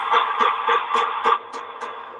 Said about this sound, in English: What you're hearing is gunfire.